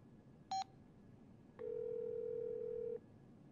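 Cartoon telephone dialing in a classroom: a short bright tone blip, then a pause and a long steady dial-type tone lasting over a second, clean and fairly quiet over a faint background hiss.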